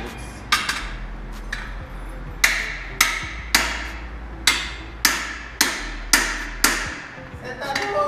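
A sledgehammer strikes the exhaust of a Honda Pop 110i motorcycle about ten times in a row. Each blow is a loud metallic clang that rings briefly, with a steady low hum underneath.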